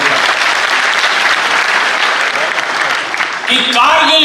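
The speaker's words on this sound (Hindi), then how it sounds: "एक बार तालियां बजाकर मंदिर कविता शुरू कर" Loud audience applause at a Hindi comedy poetry recital, dense continuous clapping throughout, with a voice starting to speak over it near the end.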